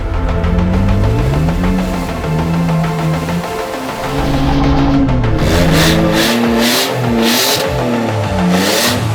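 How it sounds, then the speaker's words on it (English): Toyota Prado 4WD driven hard off-road during the Buildwars 2025 competition in Tasmania, its engine revving loudly and continuously close by, pitch rising and falling as the throttle is fed without letting up. "So we've got Dan in the car and he's treating it like the summer nuts, absolutely feeding it"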